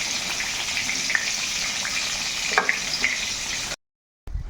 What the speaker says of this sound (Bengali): এই যে আবারও নেক্সটটা ভেজে নেব